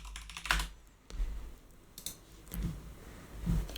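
Typing on a computer keyboard, with bursts of close, crisp key clicks at an uneven pace separated by short pauses, and no voices.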